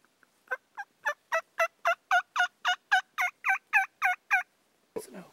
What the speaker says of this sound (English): The gobblers still have hens behind them.